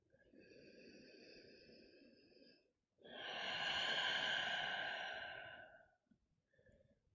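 Two slow, deep breaths during a yoga session, each a long, airy, sigh-like exhale close to the ear, the second fuller and louder, then a short quiet breath at the end.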